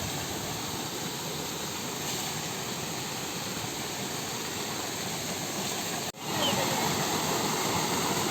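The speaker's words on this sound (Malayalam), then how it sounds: "ആ സ്റ്റെപ്പ് ഇറങ്ങി നമ്മൾ പോകുന്നത് ഒരു കൊച്ചു വെള്ളച്ചാട്ടമൊക്കെ ആയിട്ട് നമുക്ക് ഒരുപാട് എൻജോയ് ചെയ്യാൻ പറ്റിയ ഒരു കൊച്ചു നാച്ചുറൽ പൂളിലേക്കാണ്" A small waterfall pours into a natural pool, giving a dense, steady roar of falling water that fills the scene and briefly cuts out near the end before resuming at the same level.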